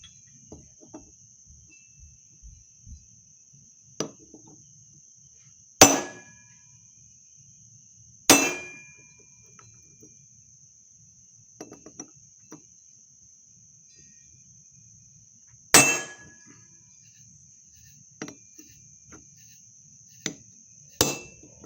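Hammer blows driving a socket onto a bushing during a Ford 4R100 transmission rebuild, a handful of sharp metallic strikes spaced seconds apart over a constant high whine, with faint small taps between them.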